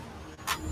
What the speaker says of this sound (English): Nice car.